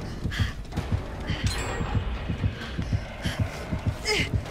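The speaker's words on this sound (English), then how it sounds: "Heartbeat." A video game's heartbeat warning thumps in a steady, fast low pulse, about three beats a second, with faint game noises over it.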